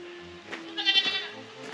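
Goats that have escaped through a garden gate bleat in a single close, strained call that swells and wavers for about a second over a steady background hum.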